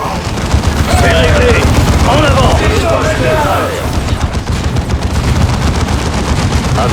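Rapid automatic gunfire and explosions in the video game Dawn of War 2, loud sustained bursts and booms with chattering shots, while voices speak over the battle.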